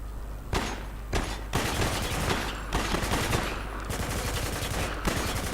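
Dense, continuous gunfire from the Spec Ops: The Line video game, with rapid overlapping shots and bursts forming a loud, sustained barrage that runs the whole way through, with no voices.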